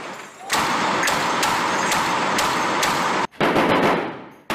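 Naval .50 caliber machine guns fire in a loud, sustained roar with sharp periodic cracks, briefly cut off and then resumed, heard alone without talk.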